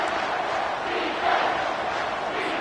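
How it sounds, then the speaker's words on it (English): A dense, steady stadium roar rises from the crowd in a college football video game, Wisconsin versus Alabama, loud and continuous with a slight swell midway. "Decibels rising as the crowd gets behind this defense on 3rd down"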